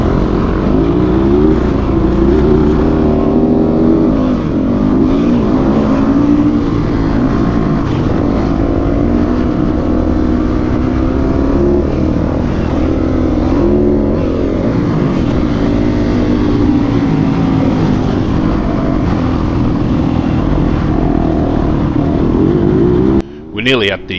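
A 450 and a 250 dirt bike riding motocross laps, engine drone steady and loud throughout with shifting pitch as the bikes rev and ease off, ending in a brief rustle.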